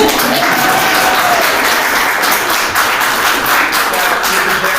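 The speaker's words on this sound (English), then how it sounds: "yeah, you can clap" Loud, sustained applause from an audience at a college district board meeting fills the space evenly, a dense wash of clapping that holds steady throughout.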